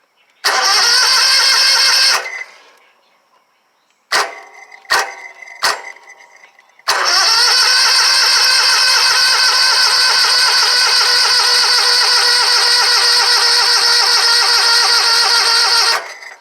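A Scag Tiger Cat II zero-turn mower with a Kawasaki FX691v engine that backfires and runs on one cylinder: a loud cranking burst, a pause, several short sputtering crank attempts, then the engine catches and runs steadily and loudly for about ten seconds, with no talking.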